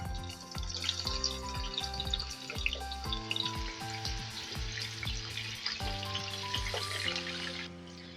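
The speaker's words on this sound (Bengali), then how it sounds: "এবার আলুগুলো ভেজে নেব।" Potatoes for french fries frying in hot white oil, a bubbling sizzle with occasional stirring, mixed with steady tonal music playing over it.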